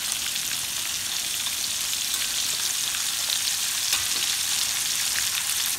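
Fish pieces coated in pepper and chili powder fry in hot oil, a loud, even, bright crackling sizzle that continues throughout without talk.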